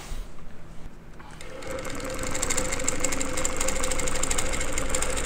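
A domestic or longarm quilting machine stitches along a quilting ruler. It starts quiet, then builds into a continuous rapid chatter of stitching that runs steadily and close to the end.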